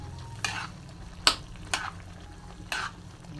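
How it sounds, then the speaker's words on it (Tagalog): Stirring beaten egg into a Filipino home-cooked dish in a pan, a few scraping utensil clinks against cookware over a soft, steady sizzle, no talking. "I-mix po natin si egg."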